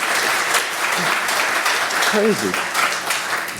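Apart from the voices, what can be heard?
audience round of applause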